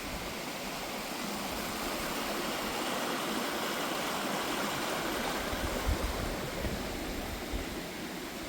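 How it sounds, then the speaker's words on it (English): A creek flowing steadily along a hiking trail, with a broad, even rush of water that holds constant throughout, close and fairly loud, with no voices. "We are coming up on our first creek crossing."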